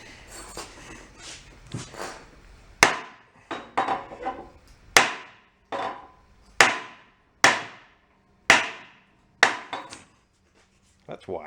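A hammer striking a part of a junked marine diesel generator set, a dozen or so sharp ringing metallic blows at an uneven pace, close and loud, with a few spoken words early on.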